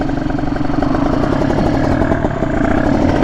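A motorcycle pulls away at low RPM with the clutch held, its engine throbbing in a steady, close, loud putter with rhythmic pulses and no hard revving.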